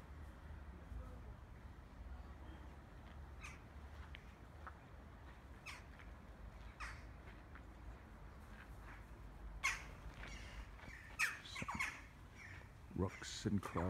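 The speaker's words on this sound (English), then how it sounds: "Rooks and crows, they have their little nests in those holes there." Rooks and crows call in scattered, sharp squawks around the ruined stone walls of the Rock of Cashel, faint at first and growing busier toward the end over wind-like outdoor noise.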